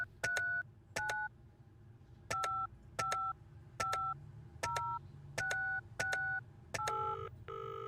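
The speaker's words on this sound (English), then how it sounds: "We'll give him another ring." A phone in the video game Penelope Pendrick dials out in a run of nine evenly spaced touch-tone beeps, each with a sharp click, followed by the start of a ringing tone, clear and without talk.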